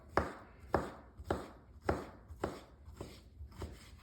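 A knife cuts fat off a whole top sirloin on a cutting board, seven evenly spaced sharp thunks and slicing strokes, close and crisp with quiet gaps between.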